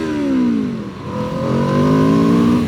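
An Aprilia RSV4 sports bike engine revs loudly up close, rising in pitch, dipping briefly, then climbing again into a sustained high-revving wail.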